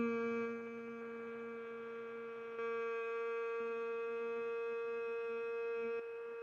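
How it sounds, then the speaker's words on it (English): Sustained vocal hum chanted during a yoga breathing exercise, held as a steady, even drone that breaks briefly and resumes at a slightly shifted pitch, repeated in long unbroken tones with no talking. "here we will do the sound hum"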